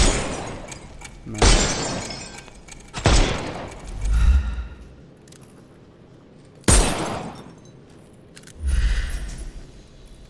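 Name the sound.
pistol gunshots in video game Sherlock Holmes Chapter One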